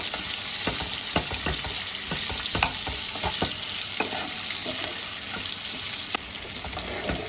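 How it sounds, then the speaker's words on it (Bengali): Chopped onion frying in a pan for egg masala khichdi, a dense continuous sizzle with frequent spatula scrapes and taps throughout, close and steady with no speech. "পেঁয়াজটাকে আমি হালকা ভেজে নেব"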